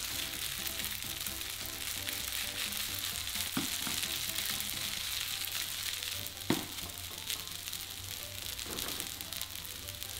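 Garlic fried rice being stirred in a pan: a continuous soft sizzle with occasional scraping clicks of a utensil against the pan, one sharper knock midway, and no voices.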